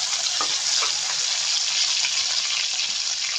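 Chopped tomatoes sizzle and fry in hot oil in a pan for aloo dum made with new winter potatoes, a steady loud hiss running unbroken from start to finish with no voices.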